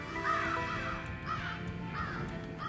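Crows caw repeatedly in a rhythmic series of harsh calls, fairly close and clear over a constant low background hum.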